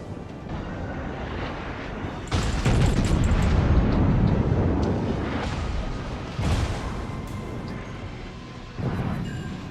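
Ship blowing up in the World of Warships naval battle game, heavy booming explosions that swell loud and rumbling, then fade and return in further bursts, close and dense without speech.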